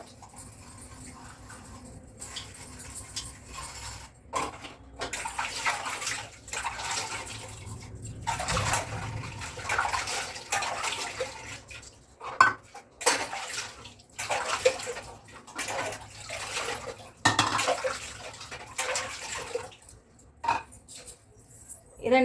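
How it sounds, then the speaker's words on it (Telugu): Cooking pots and dishes being scrubbed and washed by hand, with splashing water and scraping strokes running steadily throughout, a dog whimpering faintly and a voice talking at times in the background. "వంట చేసినవి ఉన్నాయి కదండి అవి అయితే తోముతున్నాను"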